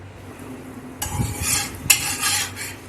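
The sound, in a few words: flatbread (poli) roasting on an oiled hot griddle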